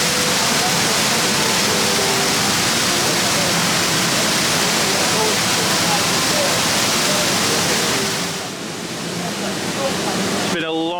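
A waterfall beside a boat ride at Blackpool Pleasure Beach roars close by in a loud, constant splashing rush that dips briefly near the end.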